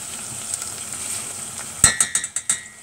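Onions and rice frying in a pan with sugar, a low steady sizzle followed by a quick series of about five sharp clinks from stirring, close and alone.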